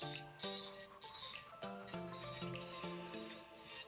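A nail file or electric nail drill works around the edge of a fingernail, giving a faint, close rasping that comes in short repeated strokes with brief pauses between them.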